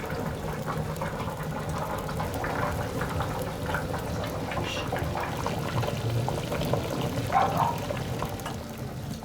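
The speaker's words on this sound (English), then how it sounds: "puts all of the ingredients in a pot with boiling salted water" Stew ingredients bubble in a pot of boiling salted water, a steady close churning and bubbling that continues evenly throughout with no talking.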